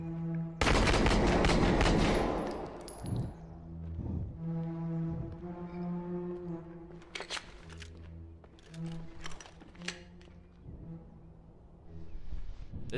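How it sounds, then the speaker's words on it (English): Gunshots from a realistic body cam video game ring out in a sharp opening volley. Scattered single shots follow, mixed with tonal game sounds. "Shots fired!"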